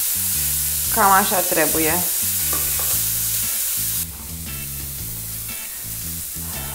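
Pineapple slices frying and caramelising in a pan give a steady sizzle with scraping stirs, while someone speaks briefly over the cooking and music plays underneath.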